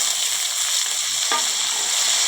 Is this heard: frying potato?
yes